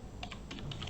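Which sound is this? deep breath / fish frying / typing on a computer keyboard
typing on a computer keyboard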